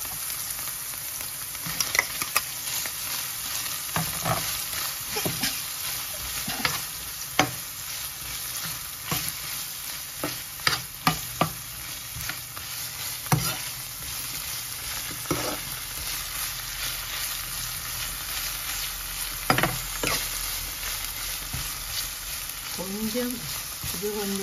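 Onions frying with chicken in a pan for shell pasta, a continuous moderate sizzle punctuated by repeated clacks and scrapes of a spoon stirring at irregular intervals.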